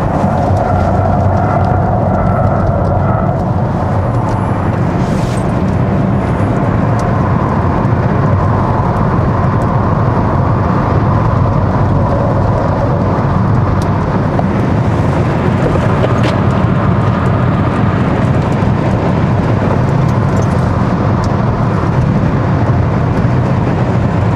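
A 2023 Kia EV6 GT electric car accelerates on a circuit at a proving ground, with a loud, continuous rumble of road and wind noise and a low drone that stays steady throughout, with no talk.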